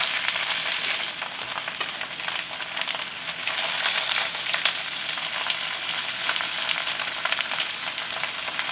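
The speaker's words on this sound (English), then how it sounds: "And I just grab spinach and just kind of turn it over like that. And the spinach starts to wilt." Baby spinach with tender stems sizzles and fries steadily in a hot pan while being turned over and wilting, a continuous bright crackle with occasional sharper pops, close and fairly loud, no talking.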